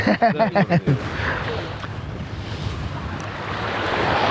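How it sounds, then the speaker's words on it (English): Surf rolls onto an Indian Ocean beach in Mauritius, a steady, loud wash of breaking waves with wind buffeting the microphone; a voice is heard briefly at the start before the water noise takes over. "in the beach, beautiful beach of Indian Ocean"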